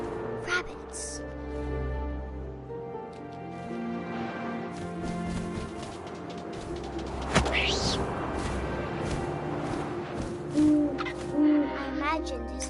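Owl hooting in the video game What Remains of Edith Finch, a few soft low hoots late in the passage over wind and a layered ambient game soundscape.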